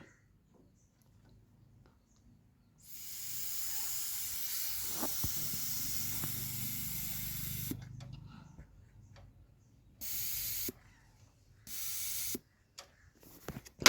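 Air is blown through the idle solenoid of a Maruti 800 carburettor, a soft breathy hiss lasting several seconds, followed by shorter hissing puffs between small ticks, close and faint, with someone talking around it.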